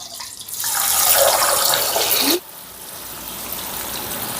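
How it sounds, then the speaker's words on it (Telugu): Green peas are dropped into reheated hot oil for frying, giving a loud rushing, bubbling sizzle for about two seconds that drops abruptly to a quieter steady hiss. "ఆయిల్ మళ్ళీ వేడైంది ఇప్పుడు ఇప్పుడు ఈ మిగిలిన బఠాన్ని కూడా వేసేసుకుందాం"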